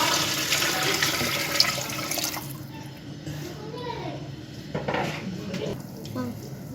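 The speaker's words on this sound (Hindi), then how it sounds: "अब इसमें हम डाल देंगे पानी।" Water poured into cooked masala of tomatoes and spices for chicken aloo pulao, a steady near splashing rush with clinks of a pot, continuous over several seconds.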